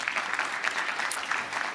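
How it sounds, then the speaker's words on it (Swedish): An audience at a talk on a stage in northern Sweden gives warm applause as a speaker comes up, a steady wash of many hands clapping at moderate distance, with no talking. "ge honom en varm applåd."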